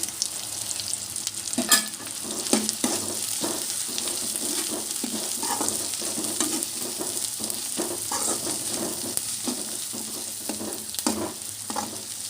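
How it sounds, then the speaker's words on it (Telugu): Chopped green chillies sizzle steadily in a hot pan, with repeated scraping stirs at close range, no voices over the frying. "మనం కట్ చేసి పెట్టుకున్న పచ్చిమిర్చి కూడా ఉన్నాయి కదా సో అవి కూడా వేసేసుకోవాలి"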